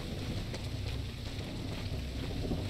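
Steady rain falling in TRIBE: Primitive Builder, an even wash of hiss with a low rumble underneath, continuous and unbroken throughout with no voices.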